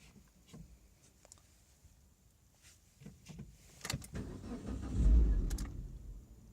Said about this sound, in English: the engine reacted. It almost started. At the end moment when it has to fire, it is not firing.